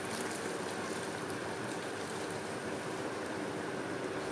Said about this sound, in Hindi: पानी हमारा बॉईल होना शुरू हो गया है